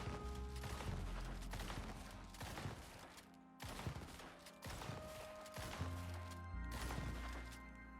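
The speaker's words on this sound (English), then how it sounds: "it wouldn't be a shooting update if we didn't empty a whole clip" A whole magazine emptied in the Icarus survival video game, with dense, continuous rapid gunfire cracking and booming nonstop under layered game effects and music.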